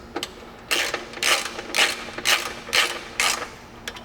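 Ratchet wrench tightening fairlead bolts on a Polaris RZR XP Pro front bumper, giving six crisp, evenly spaced bursts of clicking close up, with no talk.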